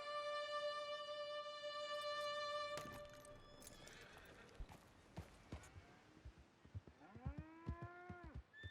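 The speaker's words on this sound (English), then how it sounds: "Moo!" Cattle moo in the Western video game Red Dead Redemption 2, a long, drawn-out low that rises and falls near the end, with horse sounds and clopping hooves behind and sustained tones early on.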